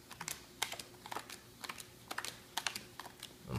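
Playing cards dealt into four piles of thirteen, a quiet series of soft, quick slaps and flicks at an uneven pace, close and alone.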